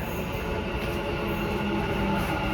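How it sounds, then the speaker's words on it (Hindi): A Dubai metro train rolls into a station with a steady loud rumble and rising hiss of wheels on rail, a faint high squeal riding on top, heard up close on the platform. "मेरी मेट्रो आ गई है"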